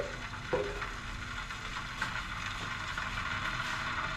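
Ginger garlic paste frying in a pan over medium flame while being stirred, a steady close sizzle with a couple of light spoon scrapes against the pan.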